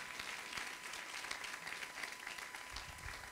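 A church congregation applauds during a pastor's sermon, a steady wash of clapping heard at a distance for a few seconds, fairly faint and continuous.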